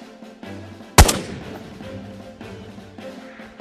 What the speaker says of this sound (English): No way, I shot him through the tree.